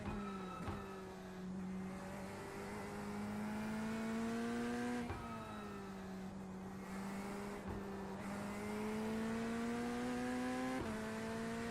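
A race car engine in the iRacing sim on the Nordschleife, a steady loud drone that rises in pitch through each gear and drops sharply at every upshift, with several shifts and no talking.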